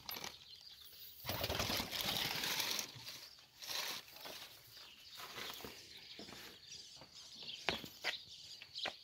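Pigeons on a small farm make bursts of wing flapping and rustling with a few faint chirps, irregular and fairly close, amid scattered knocks and handling noise.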